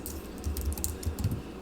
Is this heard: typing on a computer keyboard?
yes